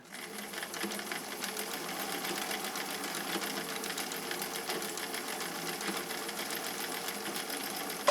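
A sewing machine runs a stitch pattern with a steady, continuous mechanical whirr and rapid needle chatter, close and even from start to finish.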